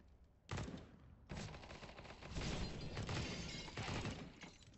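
Rapid bursts of gunfire from a P90 in a first-person shooter game, loud and sustained with dense crackling shots and breaking-glass impacts, continuing without a break after a short quiet lead-in.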